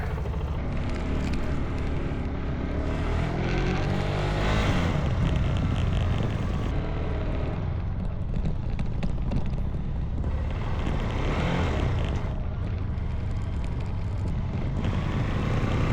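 A motorcycle engine runs at road speed, rising in pitch as it revs and then dropping as the gears shift up smoothly, a few times in a row, with strong wind rush over the microphone and no talking.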